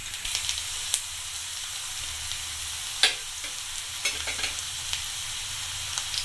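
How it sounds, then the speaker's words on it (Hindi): Garlic sizzling and frying in hot oil in a kadai while being stirred, a steady crackling fizz with occasional sharper spatters and scraping clicks of the spoon, close and fairly quiet, with no talking. "तो ये ऑयल हमारा गर्म हो चुका। अब मैं डालती हूँ इसमें ये लहसुन"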